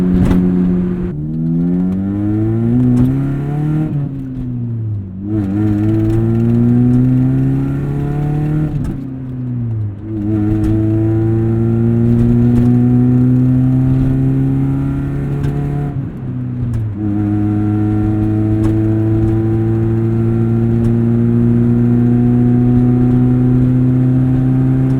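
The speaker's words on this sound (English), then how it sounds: "I just gotta ring out 1st, 2nd, 3rd gear going highway speeds" A 1996 Saturn SC2 pulls hard through first, second and third gear at highway speed, its engine note climbing steadily in each gear, then dropping briefly at every shift before rising again, loud and continuous with no talk.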